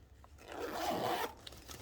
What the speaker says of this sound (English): I put this one back to cover the end of the zip, and I check again